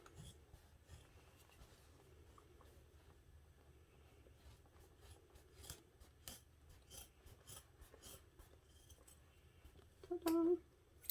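Worn scissors chop slowly through thick fabric for a backpack with faint, scattered rasping snips, quiet and close, ending in a louder squeaky cut.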